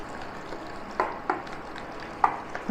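Moong dal pakora batter with gram flour is mixed and beaten by hand, giving soft wet squelching slaps in a few distinct bursts over a quiet background.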